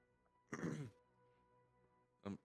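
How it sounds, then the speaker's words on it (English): One person lets out a short, close, throaty cough, followed by quiet, then a second brief cough at the end. "I'm sorry for coughing"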